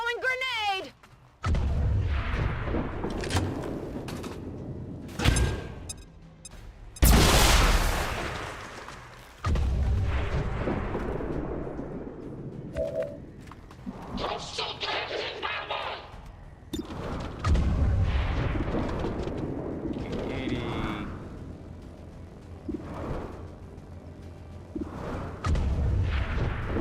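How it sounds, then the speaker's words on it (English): Grenade explosion in the tactical game XCOM 2: War of the Chosen, a loud boom among several heavy blasts and gunfire-like bursts, interspersed with quieter stretches and someone talking. "Throwing grenade!"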